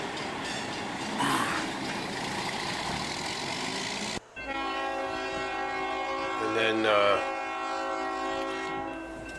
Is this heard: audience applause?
no